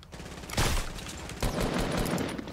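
Silenced sniper rifle and other suppressed weapons firing in Fortnite Battle Royale, two dense bursts of gunfire, the first starting about half a second in and the second near 1.4 seconds, carrying on steadily with no talk.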